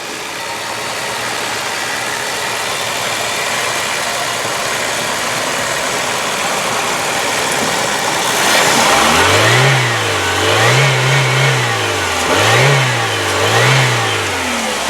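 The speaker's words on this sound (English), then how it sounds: "And there you heard it going right up to the rev limiter." A 2002 Chevrolet Cavalier sedan's 2.2 liter engine idles steadily, then revs hard several times in quick succession, each rise climbing up to the rev limiter and falling back, loud and close with no talking.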